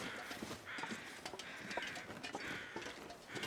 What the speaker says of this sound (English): I do hear crows now.